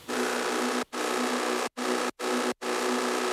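Three layered synth bass patches, a Serum supersaw, gritty Operator and Massive, play together as a loud, buzzy, sustained tone in five chopped blocks separated by short silent gaps, with a high-pass leaving little low end.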